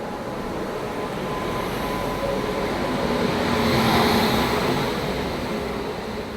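Kolkata Duronto Express rolling slowly between Delhi stations, a steady broadband rumble of wheels and carriage noise that swells slightly midway and holds constant throughout, with no talking.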